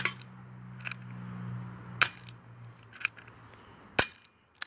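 A cheap plastic UKARMS spring-loaded airsoft revolver fires at a can, making four or five sharp, light snapping shots spaced about a second apart, each one followed by a faint tick, in a quiet setting.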